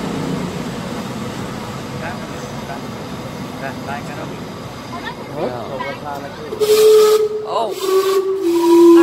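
The 1772 steam clock lets off a loud steady hiss of steam, then sounds shrill steam-whistle tones that rise and sustain near the end, with people talking faintly in the background.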